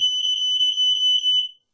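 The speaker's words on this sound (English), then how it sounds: "another alarm that's very useful inside your rented accommodation is a smoke alarm" A smoke alarm being tested in a rented home gives a loud, piercing, steady electronic tone with a slight pulsing wobble, which stops abruptly after about a second and a half.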